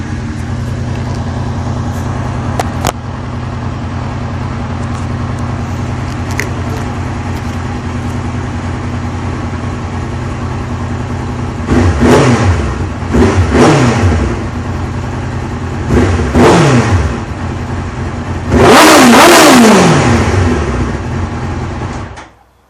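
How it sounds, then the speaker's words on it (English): A 1997 Suzuki GSX-R 750 motorcycle fitted with a D&D exhaust idles with a steady low rumble, then gets revved in three sharp bursts, the last one the loudest and longest. The bike is close to the microphone and no one speaks. "My exhaust is too loud to hold it and do it, and rev the engine, I should say. It's a D&D exhaust, 97 Gsxr 750."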